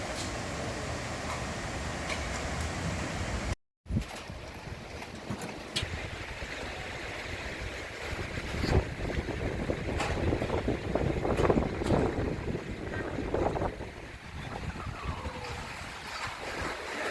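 The Rowdy Bear roller coaster at Dollywood, an amusement park, rumbles and roars with steady wind noise, rattling track and rising bursts as the ride speeds along, loud and close throughout.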